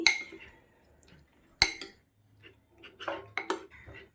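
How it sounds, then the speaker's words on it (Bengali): Raw egg mixed into marinated chicken pieces in a bowl gives sparse, close clinks and taps of a utensil against the bowl, with a few sharper knocks and soft wet squelches between quiet gaps. "এবার ভালো করে ডিমটাকে মাখিয়ে নেব আমি"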